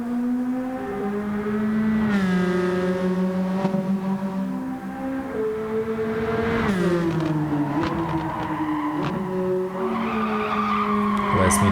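A race car in Gran Turismo 7, a Nissan Silvia, laps a track, its engine whine rising and dropping through gear changes with tire squeal in the corners, steady and clear, with someone talking at times.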